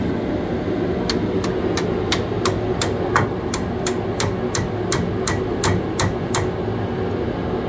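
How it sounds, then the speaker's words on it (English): A hammer strikes the back of pliers in a steady series of about fourteen sharp, ringing metal taps over a constant background hum, during strut and brake work on a 2006 Toyota Tacoma. "Take that hammer and hit the back of them pliers."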